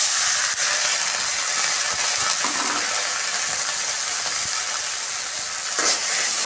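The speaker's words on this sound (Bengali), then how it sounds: "এখন হালকা পেঁয়াজ ভাজা হয়ে গেছে, দিয়ে দিলাম পরিমাণ মতো পানি।" Water poured onto lightly fried onions in a hot pan sets off a loud, continuous hiss and sizzle of steam that stays strong throughout, with no one speaking.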